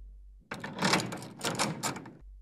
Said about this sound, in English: Certainly, said Holmes, walking over to the door and locking it